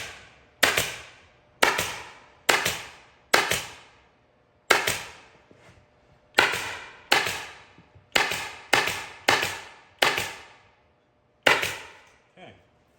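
A staple gun fires into the seat cover of a Yamaha golf cart, giving about a dozen sharp, loud snaps at irregular intervals with short gaps between them, close up and with no talking.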